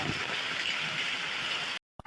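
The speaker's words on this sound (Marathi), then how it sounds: "आता मस्त खतरनाक पाऊस पडतो भाई." Heavy downpour of rain, a steady soft hiss of falling water that cuts off abruptly near the end.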